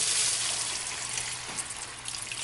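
Water poured into a pan of quail pepper fry being cooked, a steady broadband splashing hiss lasting throughout, close and moderately loud with no talking.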